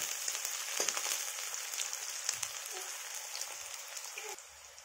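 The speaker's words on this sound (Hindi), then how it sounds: "और देखिए इसमें हम प्याज डाल लेते हैं, जो कि हमारा लहसुन फ्राई हो चुका है" Onions hit a pan where garlic has already fried for an aloo gobi curry, and the pan gives a steady, fairly quiet sizzle with soft crackles and a few stirring knocks.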